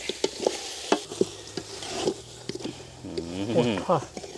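Cow hoof being stir-fried with seasonings in a pot: wet sizzling and repeated clanks of a spatula against metal, with someone talking over the cooking and more clatter near the end.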